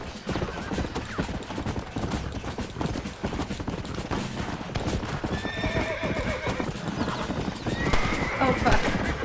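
Horse hooves clip-clop at a gallop in the Western video game Red Dead Redemption, with a horse neighing loudly near the end, under steady action-game background noise and some talk.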